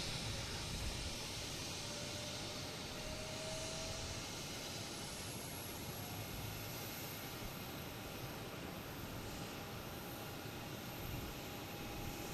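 A JetBlue jet airliner, Flight 166 from Fort Myers, comes in to land at Boston Logan Airport, its engines a steady, broad roar that holds at a moderate distance through the whole stretch without pause.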